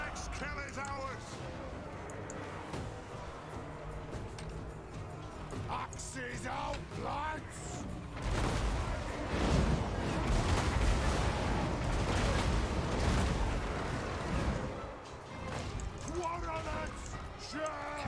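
Artillery cannons firing during a video game battle, heard as repeated booms and rumbling blasts blended into a dense, continuous battle din, with a voice faintly talking over the noise throughout.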